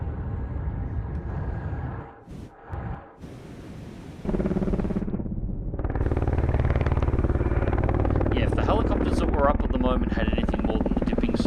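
A helicopter in the submarine video game Cold Waters drones steadily, broken by brief gaps before the rotor noise swells louder and fuller, with someone talking throughout.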